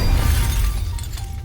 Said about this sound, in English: A bird crashed into his window,